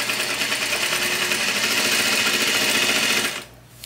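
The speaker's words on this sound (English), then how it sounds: "sew that at a 1/2 inch seam allowance." A sewing machine running steadily along a half-inch seam on a pant sample, fast even rattling stitches up close for about three seconds before stopping.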